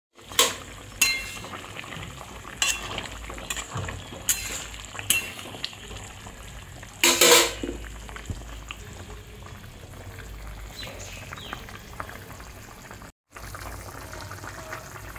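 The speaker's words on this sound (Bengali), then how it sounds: "ঝোলটা টকবক করে ফুটছে" Bengali hilsa fish curry bubbling in a pot on a gas flame, a steady low simmer of popping bubbles with a few sharper clinks and taps near the start, fairly faint and continuous with no talking.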